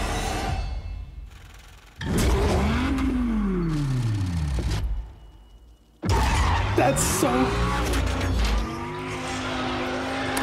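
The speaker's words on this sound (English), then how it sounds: "the sound of the Viper, the V10, it's so underrated" A Dodge Viper V10 engine revs hard twice, the pitch climbing and falling with each throttle blip, loud and close, with a brief lull between.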